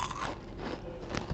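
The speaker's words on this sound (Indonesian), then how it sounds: "Ini bisa kedengeran kriuknya kayak apa, renyah banget." Close, loud crunching bites into crispy Pasuruan-style fish crackers (kerupuk ikan), a few sharp crackling crunches in quick succession with no speech.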